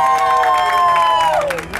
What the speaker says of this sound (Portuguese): Uma salva de palmas para nossa homenageada!